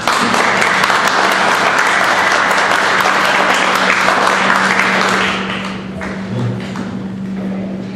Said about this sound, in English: A little applause.